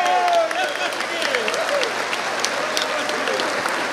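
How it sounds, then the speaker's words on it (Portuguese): Dense applause from a congregation at a talk on marriage, loud and continuous, with cheering voices and a rising shout mixed in at the start. "Pode aplaudir vocês"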